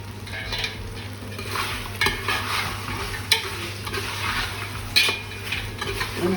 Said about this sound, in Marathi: मटण आपल्याला आता फ्राय करायचं